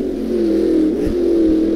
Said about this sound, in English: Is that another F1 car back there?